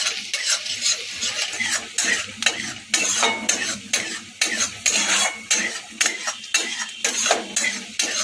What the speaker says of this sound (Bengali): একটুখানি ভাজবো হালকা একটুখানি রং ধরবে তখন আমি এটাকে নাড়াচাড়া করবো